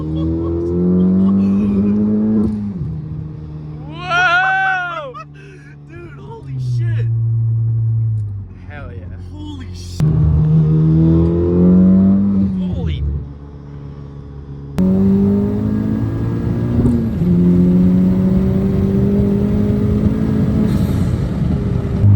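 A K20C4 engine-swapped Honda Civic Si drives hard, its engine note climbing through repeated revs and gear changes, loud and close, with people talking over it.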